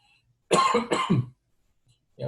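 Two quick, rough coughs close to the microphone, then a short silence before a faint noise at the end.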